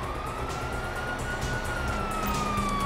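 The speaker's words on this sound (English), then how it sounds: "Hear that? Sirens!" Police car sirens wail in Grand Theft Auto V, a steady rising and falling tone over a loud, continuous rumble of traffic and engine noise.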